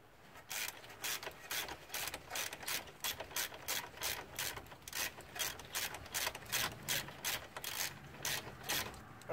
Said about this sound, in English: Stanley ratchets like to reverse on their own.